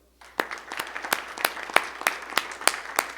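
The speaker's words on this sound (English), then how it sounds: "let's give them one more round of applause for their fascinating work." Audience applause with sharp, regular claps standing out over a steady crowd wash, continuous and fairly close, no talking.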